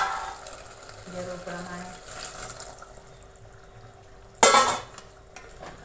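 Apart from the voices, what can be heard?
pouring hot water into cauliflower curry pot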